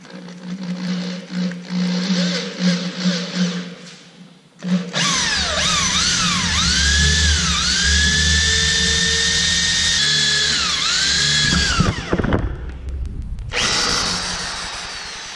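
A power drill bores into drywall, starting with a short buzzy burst, then a loud sustained high whine with wavering pitch for several seconds before cutting off, followed by a brief rattling tail.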